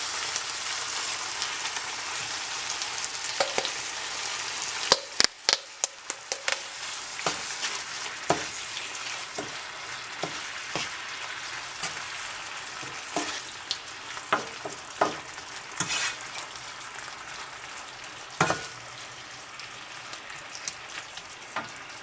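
Sugar caramelizing in a pan while making caramel pork, the heat turned down. A steady soft sizzle and crackle runs throughout, broken by scattered sharp pops and ticks, with no talk.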